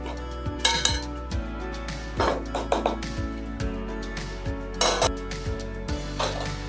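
Metal dishes and a lid clink and clatter as a pot of soaked dosa batter is covered, with sharp, close knocks scattered irregularly over a quiet background and no talking.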